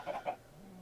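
A chicken in the video game Minecraft gives two short, quiet clucks close together, followed by faint background hum.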